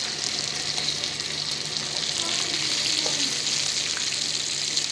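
Fish pieces frying in hot oil, giving a steady, dense sizzle with a bright hiss throughout and small crackles, fairly close and continuous, without talk over it.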